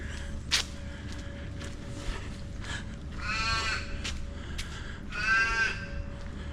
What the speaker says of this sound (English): Crows are a bit noisy this morning.